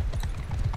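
Hoofbeats of a horse galloping in a cataphract-era battle game, a rapid thudding clip-clop rhythm running steadily and close throughout, with no talk over it.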